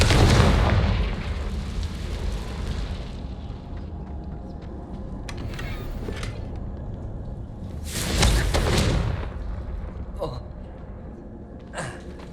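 In Hogwarts Legacy, the Confringo fire-blast spell lands with a loud booming explosion that rumbles and fades over several seconds, followed by a second whooshing blast and softer spell effects.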